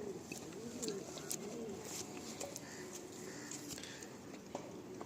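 Andhra pigeons coo softly and repeatedly in the background, low and faint, among a steady murmur of other ambient noise, with no clear talk.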